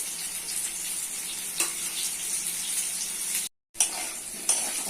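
Fish frying in hot oil seasoned with turmeric and salt, a steady close sizzle running throughout with a couple of brief sharp crackles and one short dropout near the end.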